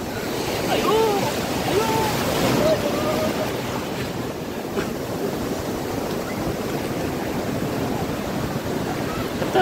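Big sea waves roll and crash continuously at Diveagar beach, a loud broad wash of surf heard close up with wind buffeting the microphone and faint voices in the background.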